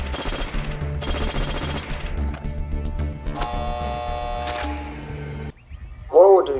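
FG-42 rifle fired in real life, two sharp bursts of automatic fire in quick succession followed by clattering mechanical and metallic sounds, then a brief voice at the end.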